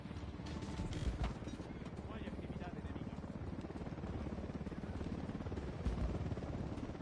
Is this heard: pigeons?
no